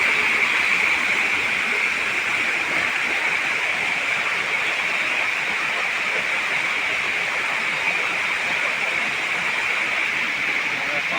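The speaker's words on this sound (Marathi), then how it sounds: "पाणी जोरात आलेलं आहे नदीला" Loud, steady roar of a flooded river's rushing water, a dense continuous wash of sound that never lets up, close by.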